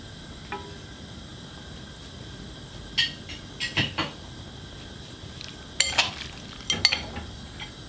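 Spaghetti is worked into a chickpea-flour batter with soft, wet stirring and scraping, broken by a handful of brief utensil clinks and knocks against the bowl.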